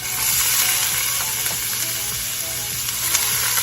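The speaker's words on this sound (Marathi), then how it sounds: "आणि आता जस्ट फोडणी घालते." Tempering (phodni) crackling in hot oil in a home kitchen, a dense, steady sizzle with faint pops and occasional stirring clinks, close and even throughout.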